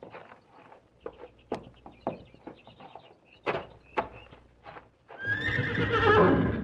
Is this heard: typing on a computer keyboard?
no